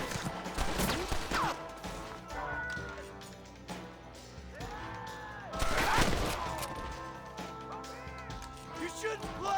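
Gunfire rattles through a shootout in Red Dead Redemption, with repeated sharp shots and bursts arriving in clusters, several loud close reports standing out amid the chaotic exchange, with voices shouting in between.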